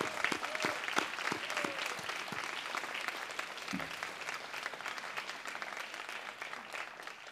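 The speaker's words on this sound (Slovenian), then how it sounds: "Teda dajmo en bučen aplavz za vaše profesorje" Graduates at a secondary-school diploma ceremony clap steadily for their teachers, with sustained crowd applause and a few sharper claps near the start, at moderate volume throughout.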